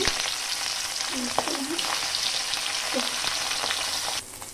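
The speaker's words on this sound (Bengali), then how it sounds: "এর ভিতরে আমি মাছগুলো দিয়ে দিচ্ছি ভাজার জন্য।" Large puti fish fry in hot mustard oil, producing a continuous loud bubbling sizzle with a few brief clinks and sputters, steady throughout and ending in a slight drop in intensity.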